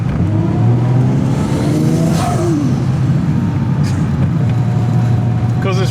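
A Mazda RX8 carrying a swapped 1JZ-GTE VVTI turbo engine with an automatic gearbox, running about 1.5 bar of boost in second gear, gives a loud, steady, close engine roar under hard acceleration, with turbo whine and hiss on top.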